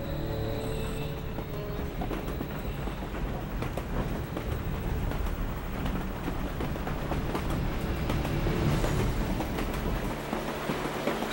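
Continuous rumbling clatter of a train rolling along rails, with rhythmic wheel knocks and a steady low roar that swells slightly toward the end, with no voices.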